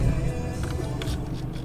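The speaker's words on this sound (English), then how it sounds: "this car sounds unbelievable. You get to hear all of the turbos" A BMW M4's 3-litre twin-turbo engine and exhaust give a steady, close, rumbling drone with some brief higher rasps, heard alone for under two seconds.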